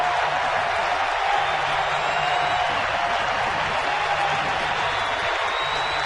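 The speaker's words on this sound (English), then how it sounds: "And listen to this crowd." A baseball stadium crowd cheers and applauds in a steady, dense roar that holds for the whole stretch, with no break and no single voice standing out.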